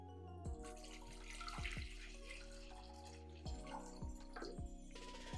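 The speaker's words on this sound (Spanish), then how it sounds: "Vamos a empezar añadiendo el agua a una olla." Water runs from a tap and splashes into a pot for making syrup, a steady close pour with several louder splashy bursts and drips over about five seconds, with no talking.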